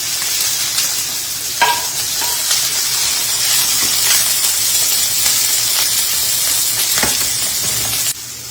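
Scallops frying in hot olive oil in a pan, giving a loud, steady sizzle and hiss from start to finish, with a few faint clicks near the middle and end.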